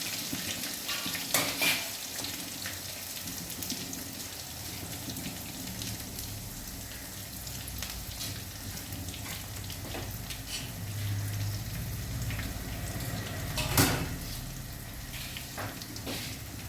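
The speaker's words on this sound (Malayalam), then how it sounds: "വെളുത്തുള്ളി ഇഞ്ചി പേസ്റ്റാക്കി ഇട്ട് കൊടുക്കാം." Garlic and ginger paste frying in a pan for a Malayalam-style mackerel pickle, a steady hiss of sizzling oil throughout with occasional stirring clatter and sharper spits around the middle and near the end, no talking.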